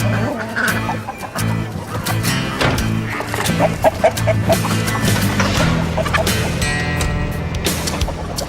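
Clucking chickens in a busy indoor scene, moderately loud over a dense, cluttered background of other noises.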